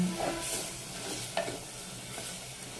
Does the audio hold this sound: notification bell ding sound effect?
no